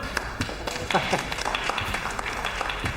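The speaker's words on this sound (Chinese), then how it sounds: "鼓掌欢迎！" A small group claps briefly and somewhat raggedly to welcome someone arriving in an office. Scattered hand claps sound close by, with voices talking around them.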